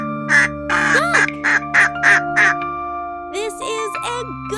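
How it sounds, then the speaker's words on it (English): A duck quacks in a run of six evenly spaced, fairly loud calls, followed by a few higher bird-like calls near the end, with a steady hum underneath. "Ducks love to swim and say quack."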